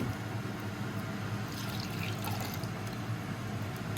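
Milk being poured from a can into a dish for chicken fricassee, a soft continuous liquid pour with faint trickling, quiet and steady for a few seconds with no talking.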